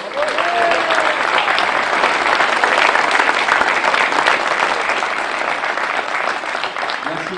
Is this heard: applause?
yes